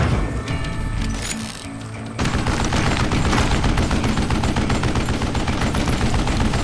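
Rapid gunfire from the Western shooter game Call of Juarez: Gunslinger, loud dense bursts of shots running almost continuously after a brief quieter lead-in, with crashes mixed in.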